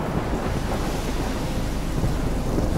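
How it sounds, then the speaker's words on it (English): A thunderstorm in the game Life is Strange: Chrysalis, with a continuous low rumble and hiss of rain and wind, steady and fairly loud, no voices. "Why the heck are you waking up in the middle of a storm?"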